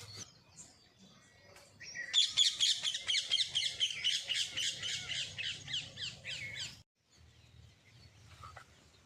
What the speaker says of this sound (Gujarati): પોપટ બોલે લીમડા પર પોપટ.